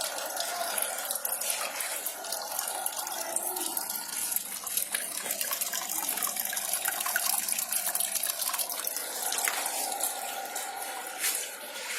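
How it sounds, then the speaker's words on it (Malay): Water pumped by a solar-powered motor in a school aquaponics planting system runs and splashes steadily, a continuous close trickle and spatter with small drips, no voices. "Kemudian tenaga elektrik dari bateri ini akan menghidupkan motor pam air sistem Aquaposo."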